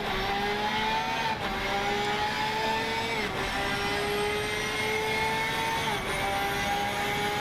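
Porsche 992 race car in a racing video game at Spa, its engine note climbing steadily through the gears with brief dips at each upshift, loud and continuous with no talk.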